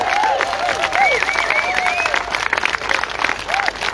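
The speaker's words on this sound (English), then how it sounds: "Can we have a round of applause for these wonderful people on stage?" Audience applause at a Relay for Life charity Candle of Hope ceremony: a steady, dense round of clapping from the crowd, with cheering and voices mixed in throughout.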